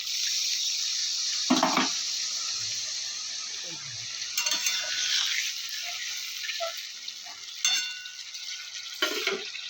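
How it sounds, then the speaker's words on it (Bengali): Water is poured into a pan of fish curry being cooked with chili paste, a sizzling, splashing wash broken by a few louder clanks and bursts against a steady hiss. "এখন জলটা দিয়ে দেবো"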